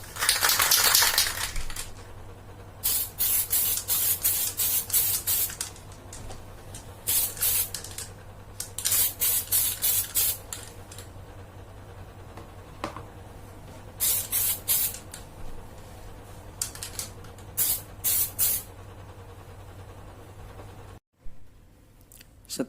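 Spray gun applying grey epoxy primer to the body panels of a 2005 Yamaha Vega R motorcycle, in repeated hissing bursts of a few seconds each, close and steady, with short pauses between passes and no talk.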